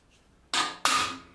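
Two sharp metallic strikes of a hammer on a rivet snap, shaping rivet heads on a steel helmet; close, loud and distinct, each blow ringing briefly, with no talk.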